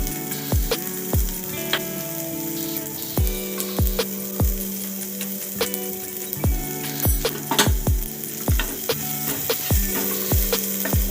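A spoon stirs pizza sauce with salt, oregano and chili flakes in a pan, making steady scraping strokes with sharp taps against the pan over a soft sizzle, close up and with no talk.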